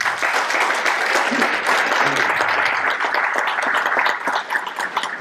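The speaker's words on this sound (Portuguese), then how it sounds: "Merece um aplauso, não merece?" A room full of people applauds a child's drawing during a morning church gathering, steady close clapping that fills the whole stretch without a break.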